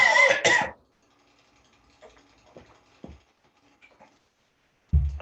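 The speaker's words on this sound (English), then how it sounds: "Let me mute while I cough." A man coughs hard from a chip stuck in his throat, two loud harsh bursts at the start, then near quiet with faint rustles before another cough begins at the end.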